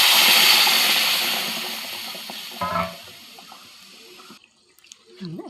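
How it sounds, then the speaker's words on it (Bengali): Hot water pours into a pan of fish curry masala cooked down with spices, whipped yogurt and cashew paste: a steady rushing splash that gradually fades over a few seconds, then a brief clatter and soft kitchen sounds. "মশলা কষানো গরম জল"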